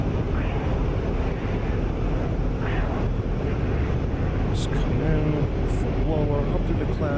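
A Su-27 jet engine roars at full afterburner in a video game as a dense, steady broadband rush, while someone talks over it and faint beeps sound near the end.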